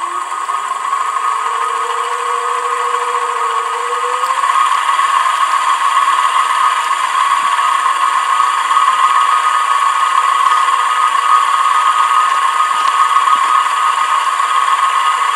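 Electric motor of a homemade aluminium casting centrifuge spinning up, a steady loud whir with a rising tone in the first few seconds, then settling into a constant high hum with no talk.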